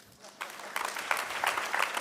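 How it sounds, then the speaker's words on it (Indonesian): Church congregation applauding during a sermon, the clapping swelling from a sparse start into a fuller, steady patter that builds over the final seconds. "Silakan mau tepuk tangan boleh kok."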